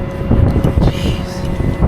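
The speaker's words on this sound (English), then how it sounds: "There was that wind again." Strong wind gusts around a truck with a loud, steady low roar and rougher surges throughout.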